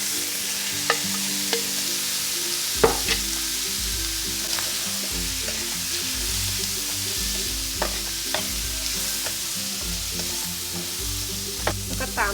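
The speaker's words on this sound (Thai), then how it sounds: "ผัดจนหมูสุกนะคะ นี้ก็ตามด้วยผักของเราเลยค่ะ" Marinated pork and vegetables stir-fried in a pan with garlic, a steady loud sizzle broken by repeated scrapes and knocks of the spatula, close up with no talking.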